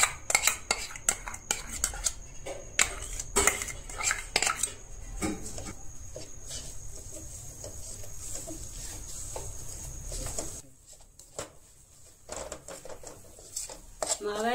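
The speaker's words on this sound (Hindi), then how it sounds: "अब मावा भून लेते हैं। ये हमने 150 ग्राम मावा लिया है।" Mawa, 150 grams of it homemade, is roasted in a kadhai on the gas, a spoon scraping and clanking against the metal in repeated irregular strokes, close and clattery, with a voice talking over parts of it.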